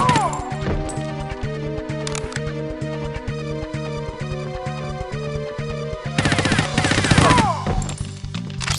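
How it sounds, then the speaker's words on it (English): Assault rifle gunfire in the video game 007: The World Is Not Enough crackles in rapid automatic bursts throughout, loud and near, with heavier crashing blasts toward the end. "Guy's got an assault rifle."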